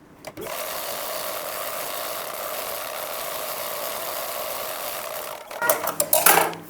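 A sewing machine stitches one side of a 1.5-inch cloth waistband strip on a lined blouse, a steady even whirr for about five seconds before it stops and cloth is handled.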